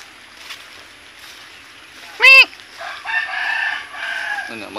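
A rooster crows once, loud and close, a short ringing call rising out of quiet surroundings, followed by faint murmuring and background noise.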